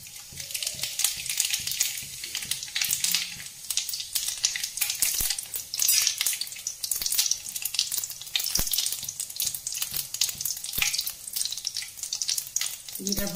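Cumin seeds frying in hot oil for a spiced chana dal and wheat flour snack, a steady loud crackling sizzle with scattered sharp pops throughout and no voices.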